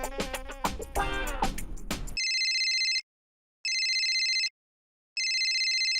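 After a burst of lively music, a phone rings in three evenly spaced electronic bursts separated by short silences, clear and steady.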